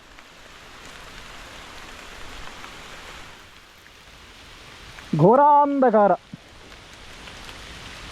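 Drizzling rain falls steadily in a broad, soft hiss during a ride outdoors, and a single brief voice cuts in near the end.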